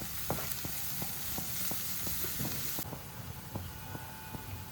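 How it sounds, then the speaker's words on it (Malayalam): Crushed ginger and garlic sauté in a pan with onions under a steady sizzle, punctuated by a regular series of sharp utensil taps and scrapes against the pan. "അപ്പോൾ അതിലേക്ക് ഞാൻ ക്രഷ് ചെയ്ത് വെച്ച ഇഞ്ചിയും വെളുത്തുള്ളി ഇടുകയാണ്. ഇത് നന്നായിട്ടൊന്ന് വഴറ്റണം"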